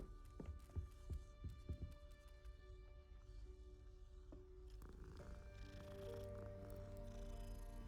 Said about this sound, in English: We will pause for some kitty pets.